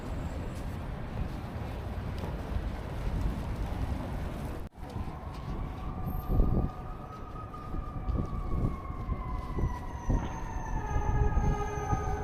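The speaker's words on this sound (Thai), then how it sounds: "ในดาวน์ทาวน์ชิคาโกก็จะมีรถไฟที่วิ่งเป็นวงกลมหรือเป็นลูป" A Chicago L elevated train runs along the downtown Loop, a steady rumbling roar with long rising and falling metallic wheel squeals drawn out over several seconds, close and continuous.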